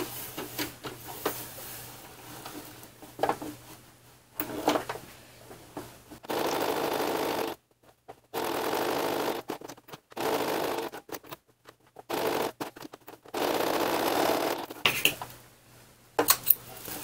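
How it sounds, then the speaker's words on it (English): Sewing machine stitching a scrappy fabric pot holder: several bursts of steady mechanical whirring a second or two long, separated by pauses, quiet clicks and handling noises, heard close without talking. "I'm going to continue sewing on."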